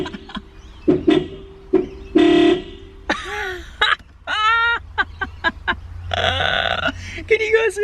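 A weak, unhealthy-sounding car horn on an R33 Skyline is triggered by wiring it to ground, giving several short, strained toots with pauses between them. It sounds close, with bursts of wavering, bleating pitch and some breathy noise.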